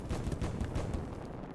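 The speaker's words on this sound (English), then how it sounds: "Fireworks combo achieved." A fireworks combo in the video game Little Inferno sets off a rapid burst of crackling, popping explosions, dense and fairly loud at first and then thinning out over a second and a half.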